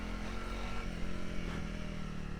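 A motorcycle with gearing changed for torque revs its engine in a steady, rough drone, fairly loud and close, with small surges as the throttle shifts.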